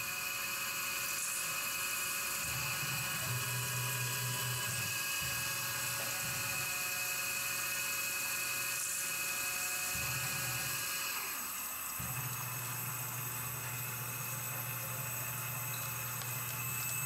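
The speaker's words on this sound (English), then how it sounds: "It's just gonna drill the D10 hole." A small 55 thou cobalt or carbide drill bit bores a hole in timascus during knifemaking, giving a constant high machine whine. A lower grinding tone cuts in and out in several bursts, with brief pauses between them.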